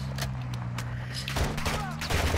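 Rapid gunfire bursts in Call of Duty DMZ, close, sharp shots cracking over a steady low hum, with brief voices in the mix.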